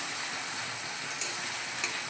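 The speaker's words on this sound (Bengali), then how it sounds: "এইভাবে 2-3 বার ভেজে নেব।" Potatoes deep-frying in oil, a steady, fairly quiet high hissing sizzle throughout with a couple of faint pops and no talk.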